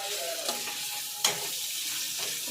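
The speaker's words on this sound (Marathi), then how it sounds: "चांगलं तेलात फ्राय करून घ्यायचे मसाले आणि वाटण" Ground paste of coconut, onion, garlic, ginger, coriander and garam masala fries in oil with a soft, steady sizzle, broken by a few brief stirring scrapes and clicks, fairly quiet and without talk.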